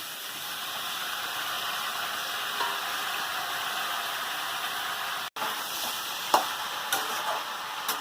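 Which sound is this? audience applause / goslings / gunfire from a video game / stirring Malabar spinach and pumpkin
stirring Malabar spinach and pumpkin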